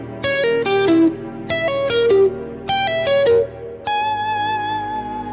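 Electric guitar with effects, a little distortion and reverb, runs fast diminished-scale phrases, three quick descending runs of clear picked notes, then a long sustained, ringing note held to the end.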